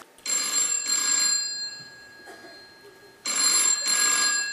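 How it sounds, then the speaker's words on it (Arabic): A telephone rings in two bursts of double electronic trills with a short gap between, loud and close with no talk. "ايا جعفر هز علي التليفون"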